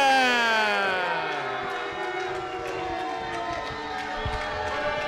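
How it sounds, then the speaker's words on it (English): A wrestling crowd reacts as a new PowerBomb Wrestling heavyweight champion is announced, a loud, sustained mix of cheers and jeers filling the arena without pause. "Well, a mixed reaction from the crowd."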